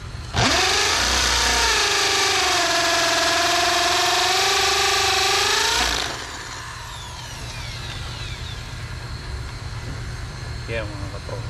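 A cordless power tool from an impact drill and grinder combo whines loudly at high speed for about six seconds, then cuts out, leaving a quieter motor hum and background noise.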